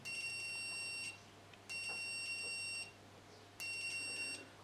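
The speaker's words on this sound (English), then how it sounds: "there's a setting here where you get a little beeping sound if you make a circuit" Three steady high-pitched continuity beeps from a multimeter, each lasting about a second with short gaps, faint and close, over a quiet background hum.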